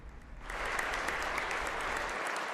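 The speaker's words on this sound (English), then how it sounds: "As they're giving him an applause now" An audience applauds an outgoing official at a live local broadcast, a full, even burst of clapping that rises quickly and holds steady before cutting off.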